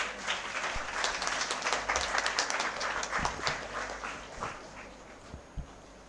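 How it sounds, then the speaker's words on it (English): At a school English debate competition, an audience claps for a debate team taking the stage, a moderately loud, uneven patter with a few distinct heavier claps and thumps as it thins toward the end. "So let's encourage them with a huge round of applause."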